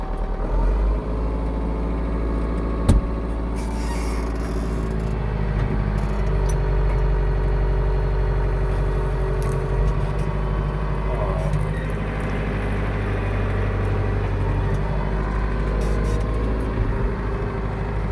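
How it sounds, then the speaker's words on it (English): A vehicle engine idles and revs up in a low, steady drone, with a sharp knock early on and a few faint bumps. "Let's give it a few revs."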